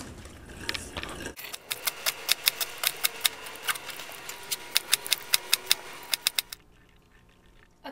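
Rapid rhythmic chopping as a knife thinly slices leeks on a cutting board for potato leek soup, about eighteen crisp, evenly spaced taps, close and clear, with no voices.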